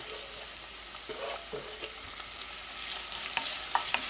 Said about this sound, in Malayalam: ഈ സവോള നന്നായിട്ടൊന്ന് വഴറ്റിയിട്ട് എടുക്കുക.